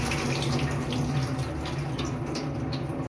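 Steady running water splashes continuously, like a tap flowing into a bowl while rice is washed, close by with no talking, cutting off abruptly at the end.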